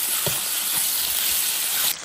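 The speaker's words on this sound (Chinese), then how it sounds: "首先炒炒猪油" Lard sizzling in a hot iron wok, a continuous close hiss with a few soft stirring knocks, alone without voices.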